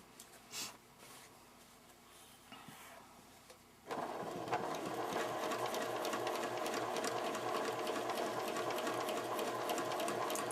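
A sewing machine stitches a patch onto jeans, running back and forth along the fabric grain. After a few quiet seconds with a faint bump, it starts up and keeps a steady, close, rapid mechanical whir and clatter for the rest of the stretch.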